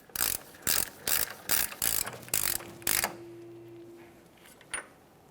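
A hand-turned socket wrench ratchets on the front axle nut of a 2014–2019 Toyota Corolla, giving about seven crisp clicking bursts, close up, and then a faint metallic tap.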